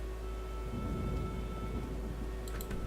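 Steady rain in The Witcher video game, a constant loud hiss of falling water with a low rumble beneath and a few faint ticks near the end, no voices.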